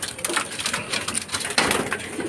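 A racing pigeon coos softly and repeatedly close by, over a loud, busy rustling background.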